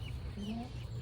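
Chickens on a homestead cluck softly as they settle into the coop at night, with a few short, close, low calls over a quiet background.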